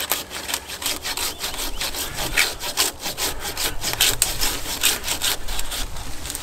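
An Oregon 330mm arborist pruning saw rasps through a thick branch in quick, rhythmic back-and-forth strokes, close and clear, with no talking.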